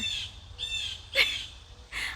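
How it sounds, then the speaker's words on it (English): A bird squawks near a tree, several harsh, loud calls in short bursts separated by brief pauses, close to the microphone over a quiet outdoor background. "this bird apparently does not want me anywhere near the tree or talking"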